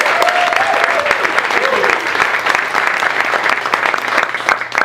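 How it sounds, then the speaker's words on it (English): A theater audience at an improv venue claps loudly and continuously for several seconds, dense and steady, with a voice briefly audible near the start. "Can we give a round of applause to MopCO Theater?"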